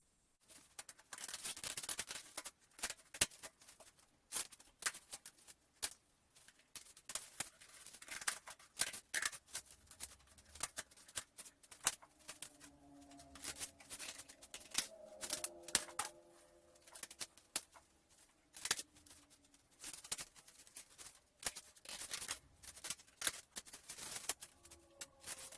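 Scissors snip steadily through painted cardboard cactus shapes for a craft, a close, irregular run of crisp cuts and paper rustles with short pauses, no talking.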